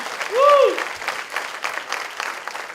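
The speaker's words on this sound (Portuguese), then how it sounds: "Dê um aplauso a Jesus por isso." A church congregation applauds during a sermon, with moderate, somewhat distant clapping throughout and a singing or exclaiming voice rising briefly near the start.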